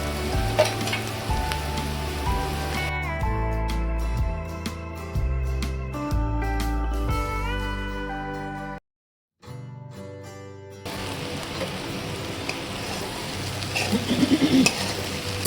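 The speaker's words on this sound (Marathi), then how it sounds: "आता आपण भेंडी टाकून घेऊया." Okra tipped into a pan of sizzling fried onions and spices, giving a steady loud frying hiss with clattering stirring; the sound drops out briefly, then a softer sizzle resumes.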